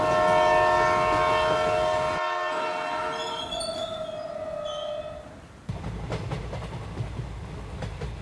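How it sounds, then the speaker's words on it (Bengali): A train pulls into Ranaghat railway station, opening with a loud, sustained horn blast that fades, then a rumbling, clattering roll of wheels on track as it comes in. "তারপর যথারীতি রানাঘাট স্টেশনে ট্রেন ঢুকল।"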